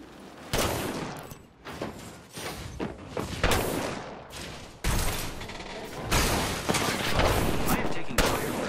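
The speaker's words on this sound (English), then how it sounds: "I am taking fire, friends. From the enemy." Repeated gunfire in Apex Legends, clusters of rapid shots and sharp bursts coming close and loud in uneven waves, with mechanical clanks and thuds mixed in between the volleys.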